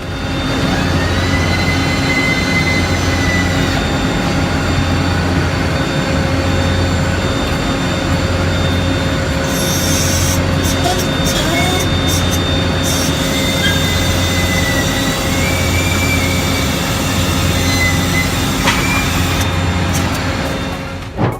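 Heavy industrial machinery fabricating a huge hot-rolled steel spring for subsea oil and gas equipment roars loud and steady, with a low rhythmic pulse repeating about every two seconds and occasional hissing bursts.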